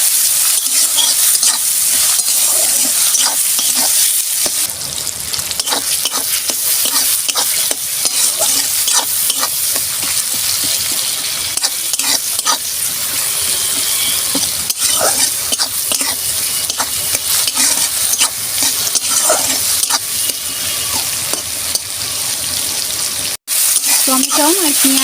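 Chopped tomato and onion are stirred and fried for doi potol, a loud, sustained sizzle with constant scraping and clattering of a spatula in the pan, briefly cutting out near the end.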